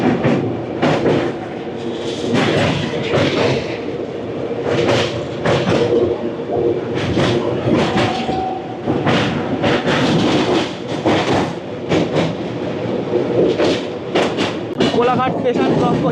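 A train crosses the Kolaghat rail bridge over the Rupnarayan river, its steady rumble and rhythmic clatter running throughout, with voices talking over it.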